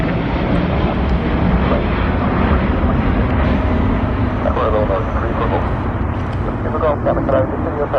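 Ryanair airliner at London Gatwick Airport, a loud, steady broadband engine roar filling the whole stretch, with a person talking over it.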